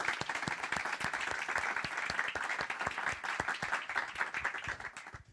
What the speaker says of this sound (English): can we have a little applause for you, please?